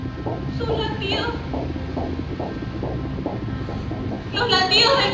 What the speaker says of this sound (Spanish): Los latidos del corazón.